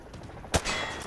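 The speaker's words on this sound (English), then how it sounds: "Grab that weapon off the table and fire at the targets behind you." Gunfire from a weapon shot at range targets in Call of Duty: Modern Warfare 2 Remastered, a single sharp loud shot followed by a sustained burst of rapid automatic fire.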